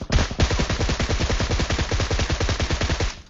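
Rapid automatic gunfire in the PUBG video game, a fast evenly spaced burst of loud close shots running continuously for about three seconds.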